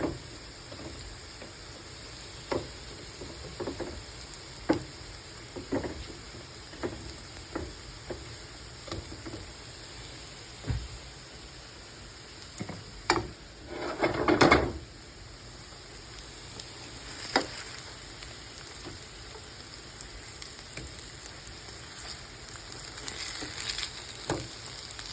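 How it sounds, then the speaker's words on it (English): Potato pancakes fry in a pan with a steady close sizzle and scattered crackling pops. Midway a brief louder scrape and flurry marks the flip, then the frying settles back into an even hiss with no voices. "I think we're going to flip them one more time."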